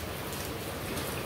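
Steady rain pours down under a dark, overcast sky, a dense, continuous hiss of drops striking surfaces, close and even throughout with no voices.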